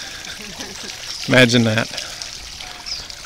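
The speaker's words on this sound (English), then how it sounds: "Fountains in the green." Water from fountains on a green splashes and pours steadily in the background of an outdoor scene, while a person speaks briefly over it.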